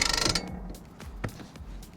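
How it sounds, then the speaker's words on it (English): A front winch on an MDC Cruizer Slide offroad camper trailer is cranked to wind the lid down: a quick burst of ratcheting clicks, then slower, spaced mechanical clunks and creaks, close and alone. "Now I can just wind it down. Nice and easy, and we'll use the front winch to lock the lid down in position."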